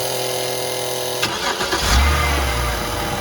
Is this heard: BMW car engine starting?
yes